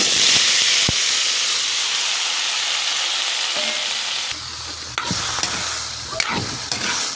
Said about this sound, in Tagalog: gigisa na nako